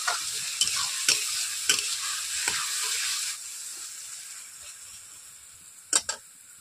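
Onion paste with salt frying in oil in a pan for a katla fish curry, a steady loud sizzle broken by a few sharp stirring scrapes, the hiss easing partway through before two final clacks.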